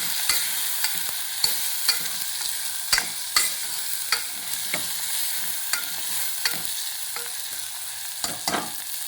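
A brinjal curry with turmeric and masala is stirred in a frying pan, producing a soft background sizzle and sharp, irregular scraping clicks of the spoon against the pan, close up and without speech.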